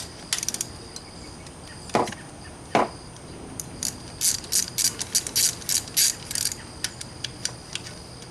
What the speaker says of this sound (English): making sure that you got it loosened all the way to remove the bolt